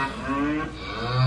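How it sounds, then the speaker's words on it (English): A gang of cows moos as a comedy show sound effect, low drawn-out lowing calls overlapping loudly for about a second. "That is a lot of cows, man."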